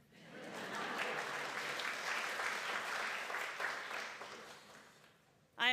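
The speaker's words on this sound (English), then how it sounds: "we can clap for that too" Steady applause from a crowd, broad and continuous for several seconds, fading toward the end before a brief voice cuts in.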